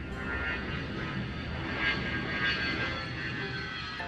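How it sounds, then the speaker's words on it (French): Airplane engines spinning up on the ground before takeoff, a steady broadband roar with a faint whine that swells slightly midway, heard alone without talk. "Démarrons les moteurs."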